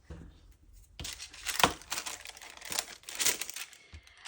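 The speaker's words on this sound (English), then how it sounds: "I'm going to cut this piece out and this piece out just with normal scissors" Normal scissors cutting glassine paper, close crisp snipping and crinkling with irregular sharp cuts over a soft papery rustle, fairly quiet and without talk.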